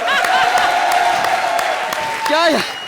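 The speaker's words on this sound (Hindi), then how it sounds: "हमारी सेलिब्रिटी के लिए जोरदार तालियां।" A comedy show's studio audience claps and cheers steadily throughout while a voice speaks loudly over the noise.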